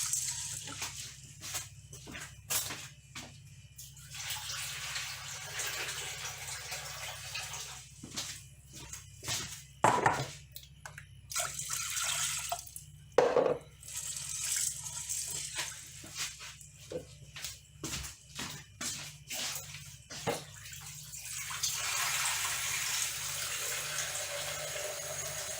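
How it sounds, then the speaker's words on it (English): Running tap water splashing in intermittent bursts as black-eyed beans are washed, starting and stopping, with occasional clatter between pours. "you proceed to wash the beans. Wash it 3 times and throw the water away"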